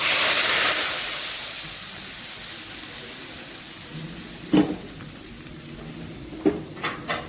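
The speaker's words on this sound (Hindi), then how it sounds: "और ये हमारा तड़का लगने जा रहा है बेहतरीन सा।" Steady loud sizzling of hot oil as tadka spices hit the pan for Punjabi kadhi pakora, a continuous frying hiss with a few clinks of a utensil toward the end.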